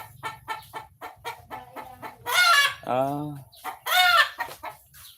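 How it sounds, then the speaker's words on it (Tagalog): A hen clucks and squawks in loud bursts after laying an egg, with rhythmic cackling calls near the microphone and a brief human exclamation. "Yun, may nangitlog tayong manok."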